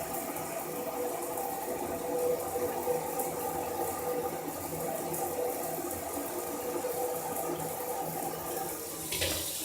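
Water sprayed over a plastic project box for a solar-powered weather station, hissing and splattering steadily and close up for the whole stretch, with no voices.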